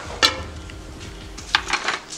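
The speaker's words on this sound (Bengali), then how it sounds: "কাজুগুলো দিয়ে আমি একটু হালকা ভেজে নেব" Cashews going into hot butter in a pan over a low gas flame, two sharp metallic clinks of utensil on pan with brief rattles between, no voices.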